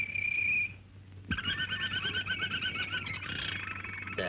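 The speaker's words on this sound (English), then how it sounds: "I want a canary for company. Perhaps I can make him sing." A canary singing in an older film scene, a short clear whistle followed by a rapid trilling warble of repeated chirps over a low background hum.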